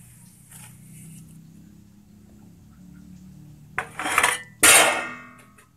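A spoon stirs mung bean porridge in a cooking pot, with a low steady hum at first and then a few loud metallic clanks and scrapes against the pot near the end.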